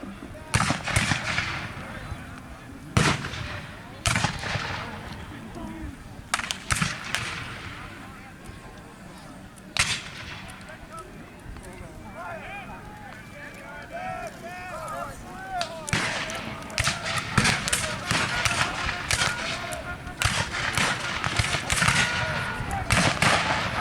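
At a Civil War reenactment battle, musket and rifle volleys crack out in irregular bursts of single shots and ragged rapid fire. Some loud and near, others more distant, with a narrator's voice talking between them.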